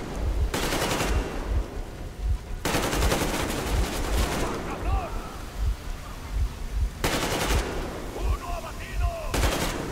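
Gunfire in the Metro Exodus video game, set in Moscow, comes as loud rapid automatic bursts of several seconds each, separated by short pauses filled with sharp individual shots and background game noise.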